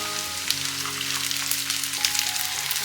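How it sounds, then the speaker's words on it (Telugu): Tomato puree hits hot oil and garlic paste in a frying pan while baby corn masala gravy is being made, giving a steady, close, crackling sizzle that runs throughout with no talking. "ఇప్పుడు దీనిలో మనం టమాటా ప్యూరీ వేసుకోవాలి."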